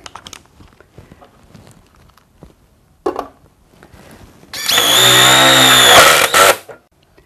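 A Bosch cordless impact driver on its high-speed, high-torque third setting drives a larger screw into timber or metal, a loud whirring burst of about two seconds after a few quiet clicks and handling sounds.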